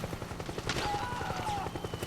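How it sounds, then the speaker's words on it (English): Helicopter rotor drone and gunfire from the video game Metal Gear Solid 4 form a dense, rumbling battlefield mix, with rapid bursts of shots rattling over a steady low whirr. "I'm pretty sure I hear a helicopter."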